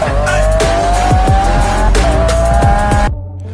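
A Corvette C8 Stingray sports car driven fast on a road, tires squealing in repeated loud screeches over the engine roar, cutting off abruptly near the end.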